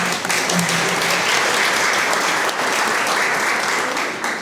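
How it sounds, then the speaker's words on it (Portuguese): Loud, continuous applause from a church congregation clapping for a priest, a thick uninterrupted wash of clapping throughout. "Salve de palmas para o Padre."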